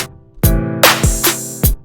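A sampled snare drum layered over a programmed snare in Logic sounds four sharp, loud hits in an uneven pattern, with tonal ringing between strikes and no voices.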